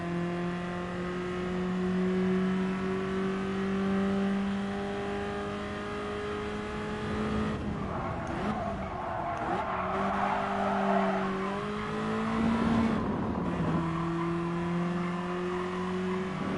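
Race cars roar through a Gran Turismo Sport race with an Audi TT in the pack, steady high engine drones shifting pitch, with tire squeals and skids midway, no voices.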